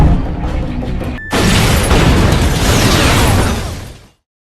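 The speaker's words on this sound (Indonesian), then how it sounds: "Ledakan itu pun mengundang perhatian polisi lokal yang mengira jika Jason adalah pelakunya." A film explosion hits as a sudden loud boom after a second of tense sound, then rolls on as a roaring, crackling blast that fades out over about three seconds.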